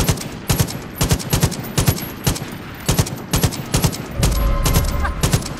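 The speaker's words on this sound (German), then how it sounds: "schießt da jemand auf dich?" Rapid gunfire bursts from the Far Cry 5 video game running a Goldeneye 007 mod, with sharp repeated shots in irregular volleys and a low rumble building near the end.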